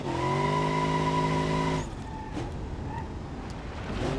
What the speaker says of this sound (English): Willingly burns the tires in 4th gear